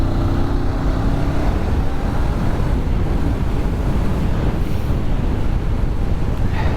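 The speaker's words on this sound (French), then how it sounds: "Je me prends du vent plein dans la tronche." Steady, loud wind roar buffeting the microphone while riding a 2024 Honda CBR500R sport motorcycle on the road, a continuous rushing blast with faint engine hum beneath and no talking.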